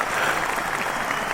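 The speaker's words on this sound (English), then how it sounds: "An astounding round of applause." A short burst of steady audience applause at a comedy and music talk show, dense clapping that holds evenly at moderate loudness with no talk over it.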